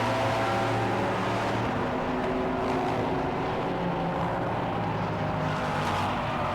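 Team Brit Aston Martin race car at Silverstone in an endurance race, engine drone holding steady with shifting tones, mid-distance and fairly loud amid other circuit noise, with no talking.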